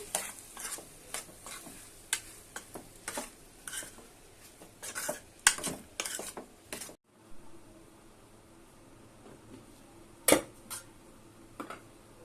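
Chopped tomato pieces go into a frying curry of brinjal and potatoes, making a series of close clattering and stirring knocks over a soft sizzle, which quiets halfway through to a low simmer with one sharp clink.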